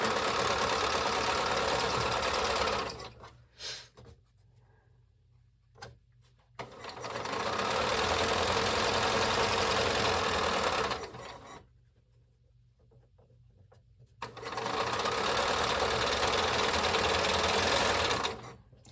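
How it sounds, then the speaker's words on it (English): A sewing machine stitches two quilt triangles together in steady, even runs, loud and near, stopping twice for a few seconds of near silence between stretches of stitching. "all we're doing now is sewing these two triangles we made together"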